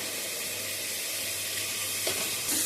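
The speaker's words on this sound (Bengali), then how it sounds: "এখন আমরা পেঁয়াজ ভেজে নিচ্ছি, তারপরে পাঁচফোড়ন দেবো" Onions frying in a pan, a steady soft sizzle close by with a sharper hiss and clink near the end, no one speaking.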